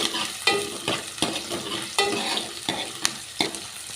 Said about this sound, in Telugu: చూసారు కదా, చక్కగా ఫ్రై అవుతుంది.